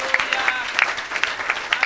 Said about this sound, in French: Oh, si tu crois, acclame.